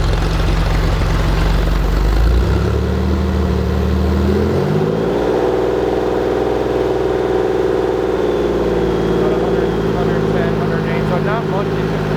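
A Porsche 911 of the 964 generation with a Cargraphic exhaust runs loudly and close by, its engine note climbing in a rev, then settling into a steady higher drone.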